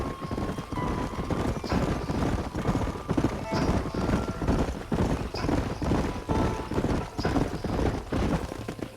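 Horses' hooves clip-clop in a steady, repeating rhythm as a group rides together in the video game Red Dead Redemption, fairly close and continuous, with faint voices in the background.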